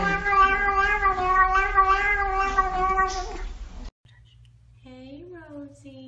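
A pet cat meows along with its owners as they sing a children's song, a long sung stretch followed by the cat's distinct meows close by.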